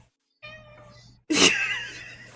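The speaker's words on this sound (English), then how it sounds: "I heard the noise, the meow" A cat meows twice indoors, a softer drawn-out call followed by a louder, sharper one, close by with no talking.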